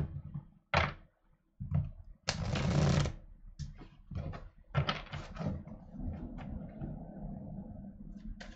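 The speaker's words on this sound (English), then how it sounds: "Now let me shuffle, and we can go to Taurus." Tarot cards are shuffled and handled close to the microphone during a weekly reading, giving a series of sharp riffling bursts and taps separated by short pauses, with a longer riffle near the middle.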